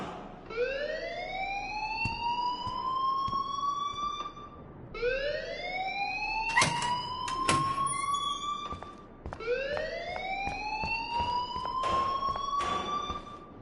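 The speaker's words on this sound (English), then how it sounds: "please turn off that alarm since that's your job" A rising electronic alarm wails three times in the video game Life is Strange, each sweep climbing steadily over about four seconds before restarting, with a few sharp clicks layered on top.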